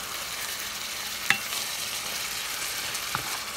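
Meat, mushrooms and peppers frying together in a pan for stuffed peppers give a steady, close, broadband sizzle throughout, with a couple of brief clacks of a utensil stirring against the pan.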